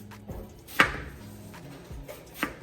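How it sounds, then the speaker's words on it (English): A knife roughly chopping onion for French onion soup, three or four separate crisp thuds on a cutting board with short pauses between them, close and clear. "put me some rough chops here"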